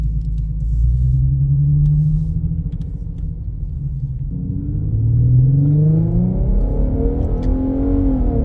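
Infiniti Q50 with a Remark axleback exhaust heard from inside the cabin while driving, a muffled low engine drone that rises as the car accelerates, dips, then climbs again, with no talking.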